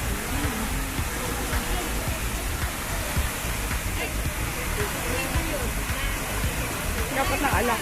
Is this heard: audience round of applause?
no